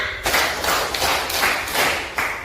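A classroom of pupils clapping hands together on a teacher's cue, a series of about five sharp, fairly loud claps in quick succession, close by with a slightly uneven rhythm.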